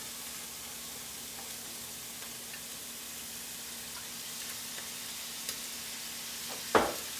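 Food browning in olive oil in a pan gives a soft, even sizzling hiss throughout, with a few faint clicks and one brief louder knock near the end.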